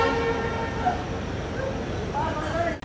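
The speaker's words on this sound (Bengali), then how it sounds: "ট্রেনটা আসছে ধীরে ধীরে।" A train slowly approaching Kamakhya Junction in Assam, its horn sounding in sustained tonal blasts over a continuous rumble, with voices faintly present in the background.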